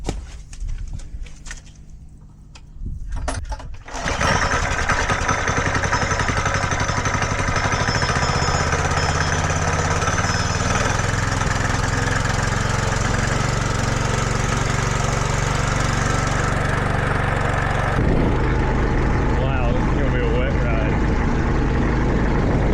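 A motorcycle engine is cranked with a few rattling attempts, then catches and settles into a loud, steady idle for the remainder, dropping in pitch toward the end, with a voice speaking early on.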